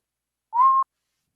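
A single person whistles one short rising note that holds steady and stops abruptly, clear and close against silence.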